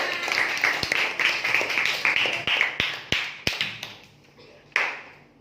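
A class of students clapping hands together in a primary school lesson, a few sharp claps standing out over a steady patter of rapid tapping or clapping that fades near the end.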